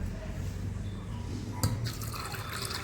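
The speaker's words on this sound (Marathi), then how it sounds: "या तुरीच्या शेंगाचे दाणे जे आहेत ते बुडतील तेवढं पाणी टाकायचं" Water poured into a pressure cooker holding pigeon pea seeds, a brief splashing pour starting partway through over a steady low background hum, with speech-like murmur.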